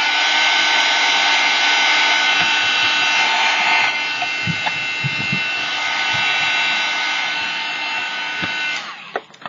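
A dryer blowing hot air onto the corner of a doodle bird artwork to dry paint, a loud steady whir running nearly the whole time, with light knocks and handling sounds and a drop as it switches off at the end.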